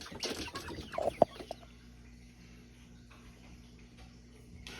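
Chickens clucking in a short burst of sharp calls near the start, then a quiet stretch with a faint steady background hum.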